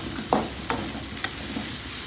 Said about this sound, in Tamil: இப்போ வெங்காயம் நல்லா பொன்னிறமாகிற அளவுக்கு ஃப்ரை பண்ணிக்கணும்.